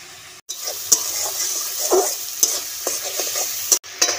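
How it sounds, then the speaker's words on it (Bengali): Ground cumin and turmeric with ginger fry in a pan for a fish curry, a steady close sizzle broken by spoon scrapes and stirring taps, with no voices. "মশলাটাকে খুব ভালো করে কষিয়ে নিয়েছি।"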